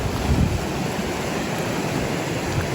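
Steady broadband rush of the Yellowstone River flowing in a canyon near Seven Mile Hole, constant and fairly distant, with light wind noise over it.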